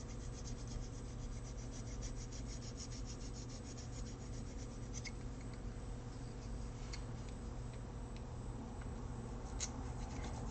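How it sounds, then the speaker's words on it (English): A soft file rasps steadily along the edge of a plastic model kit part, a continuous close scraping texture with faint ticks, with no talk over it. "And then I get my really soft file. And it's not as quite as abrasive"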